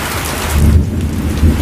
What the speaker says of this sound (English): I'm going to try to get a still photo of this rain